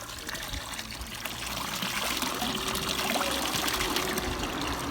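Water trickles and pours steadily from a village fountain in Switzerland, a continuous close splashing wash with no breaks.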